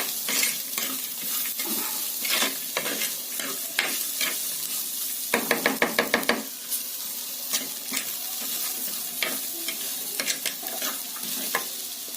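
Spices for white kurma sautéed in a pan, with a steady close sizzle and frequent scraping stirs, including a quick burst of rapid clattering strokes partway through.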